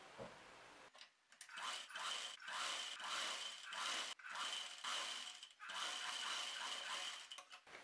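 A sewing machine stitches a sleeve onto a top's armhole in quick bursts of rapid mechanical whirring, separated by short pauses, close and clear.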